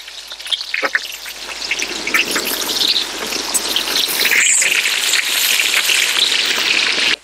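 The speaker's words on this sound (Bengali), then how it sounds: "আমরা প্রথমে আলুটা ভেজে নেব।" Potatoes coated in salt and turmeric fry in hot mustard oil, a loud, close, dense sizzle that builds and stays steady, with a few crackles and a brief clatter near the start.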